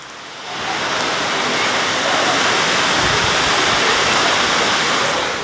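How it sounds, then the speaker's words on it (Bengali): Heavy rain at night, with wind, pours down in a dense, steady roar that swells at the start and then holds loud and even throughout. "বৃষ্টি পড়তেছে প্রচুর পরিমাণে"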